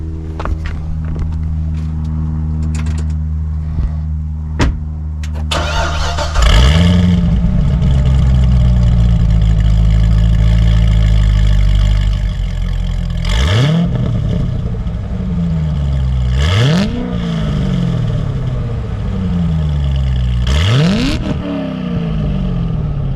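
A stock Chevrolet Corvette C6 ZR1 cranks and fires up loudly around the six-second mark, settling into a deep, steady idle, then gives three sharp throttle blips with rising and falling engine pitch, close and without talk.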